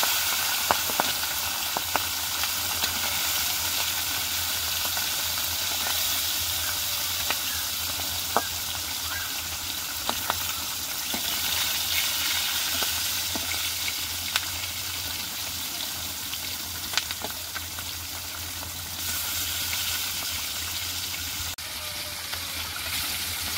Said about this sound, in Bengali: মাছ মারা হয়েছে তো, এই জন্য বারবার ভাজতে হচ্ছে।